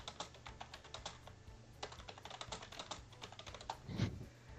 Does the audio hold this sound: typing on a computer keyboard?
yes